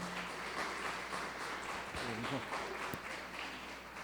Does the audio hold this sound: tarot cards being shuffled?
no